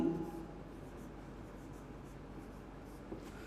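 Marker or chalk scratching steadily across a classroom board during a Hindi-medium English grammar lecture, a continuous faint scraping texture with no speech over it.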